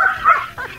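A neighbor's dog lets out a brief, loud bark followed by a shorter second yelp, close and clear with nothing else on top.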